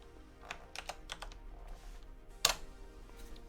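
Keyboard keys tapped in a few quick bursts during computer software installation, with a louder single keystroke near the end, fairly quiet and close, no talking.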